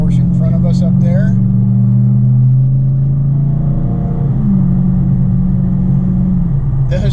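A 2020 Dodge Challenger Scat Pack Widebody climbing a hill on Mulholland Drive, its engine a deep, steady droning rumble heard from inside the car, with a person's voice briefly over it.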